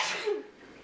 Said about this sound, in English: I really have to sneeze.